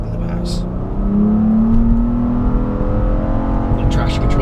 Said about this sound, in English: So it revved all the way to its red line